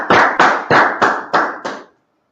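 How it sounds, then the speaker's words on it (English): Six loud, evenly spaced claps in a quick rhythm from a class gathering, close and sharp, then silence. "Y'all clap it up."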